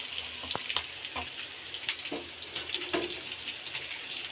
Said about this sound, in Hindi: कबाब अच्छे से फ्राई हो गए हैं